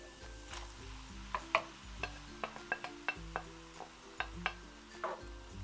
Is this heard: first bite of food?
no